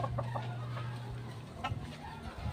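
Chicks and chickens after feeding, with faint cheeping and clucking over a steady low hum of background noise.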